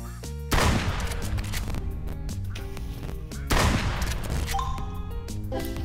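Two loud, booming shotgun blasts ring out in a duck hunting video game, about three seconds apart, each one cutting sharply over a steady bed of background music.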